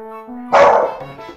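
A puppy barks once, loud and close, over a soft game-music backdrop from Final Fantasy III on the Nintendo DS, with a few quieter yips trailing after.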